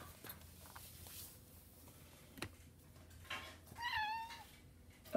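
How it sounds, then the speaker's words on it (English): A pet cat gives a single short, rising meow near the middle, faint and indoors, with small rustles and taps around it. "now you're meowing normal"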